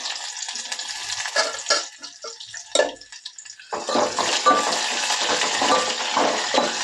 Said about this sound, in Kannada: ಎಣ್ಣೆ ಬಿಸಿಯಾಗಿದೆ ಫ್ರೆಂಡ್ಸ್ ಇವಾಗ ಕರಿಬೇವು ಹಾಕಿದ್ದೀನಿ ಸ್ವಲ್ಪ ಸಾಸಿವೆ ಬೆಳ್ಳುಳ್ಳಿ ಈರುಳ್ಳಿ